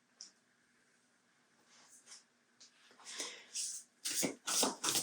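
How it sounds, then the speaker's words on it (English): Oracle cards being shuffled for a pick-a-card reading; soft rustling starts faint and sparse, then builds into louder, rapid papery riffles and snaps near the end, close up with no talking. "We're going to shuffle the cards, pick them"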